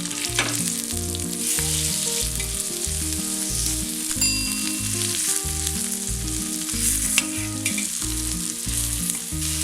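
Fish frying in hot oil in a cast iron pan for a Malabar fish fry, a loud, continuous sizzle and crackle with occasional stirring and scraping sounds throughout.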